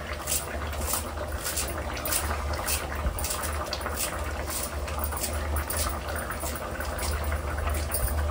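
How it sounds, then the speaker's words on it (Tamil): Spicy tamarind kara kuzhambu curry with mango pieces bubbling steadily in a pot, a continuous close simmering burble with a low hum beneath, no one speaking. "காரக்குழம்பு நல்லா கொதிச்சிருச்சு, மாங்காவும் வெந்துருச்சு"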